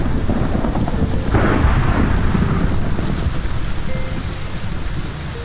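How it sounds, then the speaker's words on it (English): Thunder rumbles from a lightning strike in the modded Minecraft pack SevTech Ages, a loud, broad roll that swells after about a second and then slowly fades over rain-like background noise. "I hope that was normal lightning."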